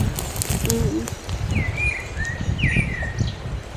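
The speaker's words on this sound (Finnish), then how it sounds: "Linnut laulaa täällä." Birds sing in a wild Finnish forest cemetery, a few short whistled and chirping calls repeating at mid-distance over faint rustling background.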